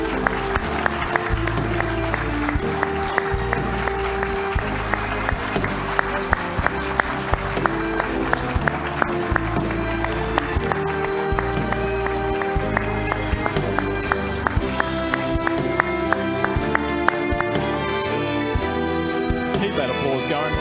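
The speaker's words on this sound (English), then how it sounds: "Keep that applause going, ladies and gentlemen, as Saba comes to the stage." An audience at the 2022 Queensland Australian of the Year Awards keeps up continuous, dense applause as a local hero winner walks to the stage, with music playing loudly throughout.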